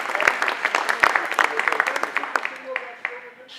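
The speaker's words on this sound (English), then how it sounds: "please applaud the 2 speakers that actually decided to show up" A meeting audience applauds two speakers, a dense burst of clapping from a small crowd that thins out toward the end, with voices mixed in.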